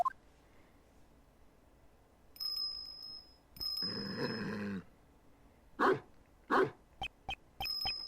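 A dog barks and growls in the Ace Attorney Investigations 2 video game, with a bell on its collar jingling. One sustained growl is followed by several sharp barks and bell-like chimes, heard alone with no talk.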